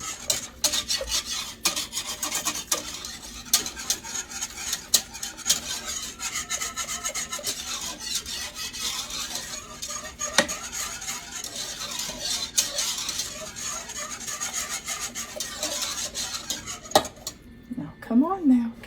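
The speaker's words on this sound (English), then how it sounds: "we're going to whisk that in" Sweet potato dumpling mixture is whisked in a pot with a utensil, giving continuous close rapid scraping and clinking against the metal for a long stretch, with a brief pause near the end.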